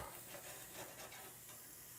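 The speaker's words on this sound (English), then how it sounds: "Look at that sizzle." Steady, faint sizzling hiss of fish cooking on a hot grill, continuous and even throughout with no talking.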